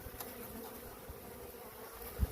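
Honey bees from a swarm buzz steadily around a caged queen being guided down into a box, a continuous close drone with a brief thump near the end.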